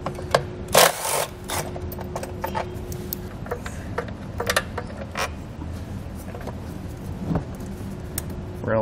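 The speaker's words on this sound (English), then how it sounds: "We'll use a 10 millimeter socket. We're gonna have a bolt here on the back side and one on the front." Socket wrench ratcheting on the emissions canister bolts of a 2020 Chrysler Pacifica: a fast, steady stream of close clicking with a few louder clanks and a faint background hum, no talk.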